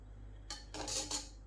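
A spoon scrapes and clinks against a pot while coloured sweet rice for mutanjan (zarda) is stirred, with a few short, faint metallic scrapes over quiet room hum.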